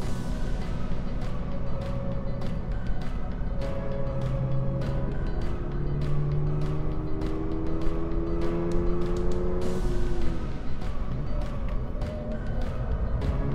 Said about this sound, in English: I expect the exhaust will sound better than this one. I mean, it sounds good, but it's not very mean.